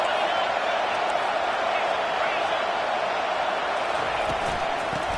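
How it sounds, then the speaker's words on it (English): A football stadium crowd at a Pitt versus Miami game roars as a steady, dense wall of noise that holds for the full length without letting up. "This crowd trying to make life miserable for this offense."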